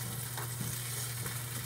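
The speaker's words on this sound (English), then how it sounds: "Not sizzling too much." Soft, steady sizzling of pancake batter in a pan, a quiet continuous crackle with a low background hum and no talking.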